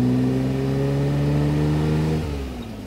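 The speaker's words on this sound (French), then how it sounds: "c'est un son de boîte à air" A car engine revving loudly and steadily with a strong airbox intake growl, the pitch holding high before dropping off near the end as the revs fall.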